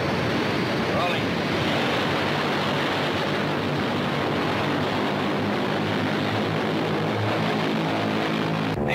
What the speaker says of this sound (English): Roger's gonna show me one takeoff, one landing, that's all